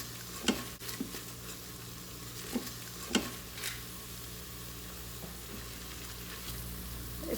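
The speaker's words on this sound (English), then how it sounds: "You want to be careful to not burn the masala, so I'd be stirring it often." Chickpea masala with tomato paste is stirred in an Instant Pot, a faint low sizzle broken by a few soft scraping clinks of the spoon, with no voices.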